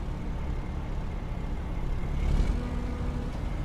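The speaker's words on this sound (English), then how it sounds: "I can hear other engines, but they're not mine." Truck engines idling and rumbling in the American Truck Simulator game, a steady low drone that swells briefly near the middle, with a faint hiss like an air brake toward the end.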